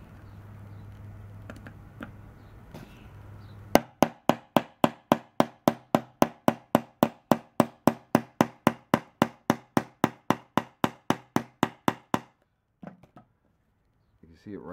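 A snap being set on a leather pouch with a hammer on a small anvil: about thirty sharp, evenly spaced metallic strikes in a steady rhythm, close and loud, with a low hum and a little faint talk before and after.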